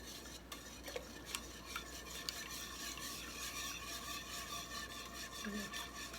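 A spoon stirs diluted flour into boiling grape must for Greek moustalevria, giving steady scraping and swishing in the pot over a soft, constant bubbling hiss, with no talking.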